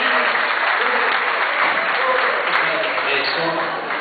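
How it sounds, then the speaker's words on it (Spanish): Applause for a ranchero singer at a September 15 gathering in a union hall, a dense continuous clapping from a crowd, loud and steady throughout with voices mixed in. "Un aplauso"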